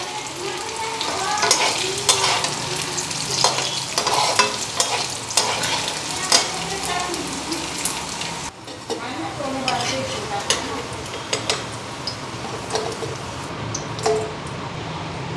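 Mung dal pieces fry lightly in a pan while being turned, giving a steady close sizzle broken by repeated scraping strokes of a utensil throughout.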